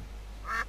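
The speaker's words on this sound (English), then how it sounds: "Next to these cute ducks that do nothing." A single short duck quack from The Sims FreePlay sounds near the end of the moment, brief and moderately loud over a low steady hum.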